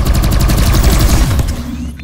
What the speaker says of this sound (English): Try shooting some targets while aiming down sights.